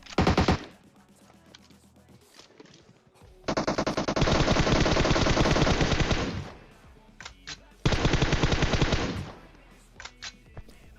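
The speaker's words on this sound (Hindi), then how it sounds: "दूर पे स्नाइपर चला रहा हूं" Rapid automatic gunfire from a PUBG battle, two long loud sustained bursts separated by short gaps and scattered single shots, with a brief burst at the start.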